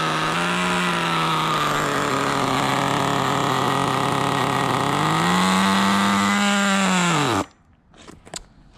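An HSP 94122 4WD two-speed nitro RC car engine screams loud and close at high revs, its pitch dipping and climbing again, then cutting off abruptly near the end, leaving a few faint knocks.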